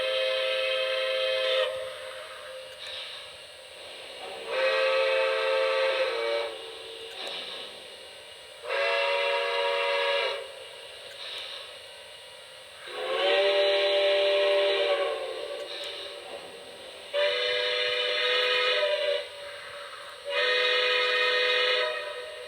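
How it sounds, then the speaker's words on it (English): Lionel model steam locomotive whistle from a Legacy-control engine, either a Light Mountain or a Ten Wheeler, sounding a run of separate chime blasts of different lengths, each standing clear and loud with short pauses between them. "you can change the whistle on your new engines by pressing the aux 1"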